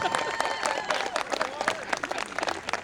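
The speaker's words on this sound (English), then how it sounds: "Give him a round of applause." Spectators at an outdoor wild west show in Lone Pine clap and cheer in a lively burst of applause, uneven and crowd-like, with a voice or two calling out over it.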